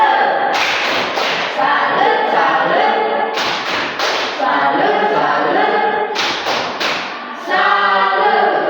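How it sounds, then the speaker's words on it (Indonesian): Classroom group of students clapping in a rhythmic cheer for a presenting team, loud bursts of hand claps repeating in clusters with pauses between them. "tepuk tangan untuk kelompok 2"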